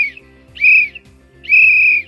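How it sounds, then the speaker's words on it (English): Three short, shrill survival whistle blasts sound close by, separated by brief pauses, with a faint low hum underneath. "Three little whistles."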